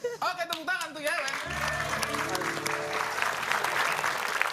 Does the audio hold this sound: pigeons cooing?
no